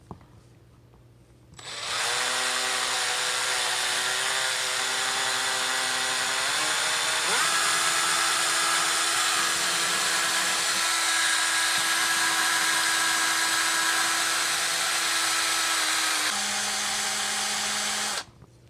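An engine valve polished with 1500 grit sandpaper while spun by a power tool: a close, loud, steady motor whine that starts abruptly, shifts pitch partway through, and stops near the end.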